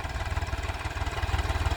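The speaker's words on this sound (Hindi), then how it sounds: "ये मुश्किल से 600 या 700 RPM पे है ट्रैक्टर" A Swaraj 735 FE tractor engine runs at low RPM, a steady rhythmic diesel thumping pulse, close and fairly loud, with no one speaking.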